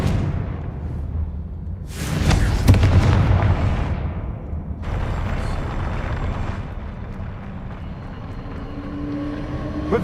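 Fiery Confringo spell blasts in the Hogwarts Legacy video game: a loud explosive burst around two seconds followed by rumbling, crackling impact noise and a second blast near five seconds, with no talk.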